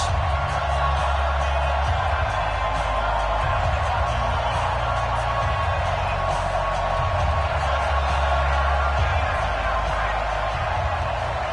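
Stadium crowd noise from a Madden 20 football game as the Buffalo Bills and Miami Dolphins line up, a steady, dense roar of cheering and murmur that holds level throughout with a low rumble underneath.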